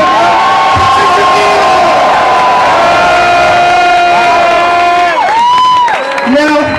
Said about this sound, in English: Let's all give a huge round of applause for the birthday girl, Patricia